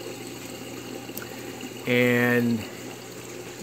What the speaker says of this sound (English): you see all the bubbles coming out? It really makes a lot of bubbles and oxygenates the water